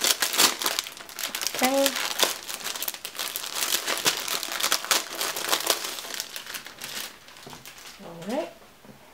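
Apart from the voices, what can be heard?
plastic sleeve being opened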